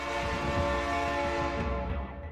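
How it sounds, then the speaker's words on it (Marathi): A train departing from a station gives a steady rumble with sustained tonal hum and horn-like notes, loud and close, easing off slightly at the end, with no voices. "चल, ट्रेन सुटायची वेळ झाली."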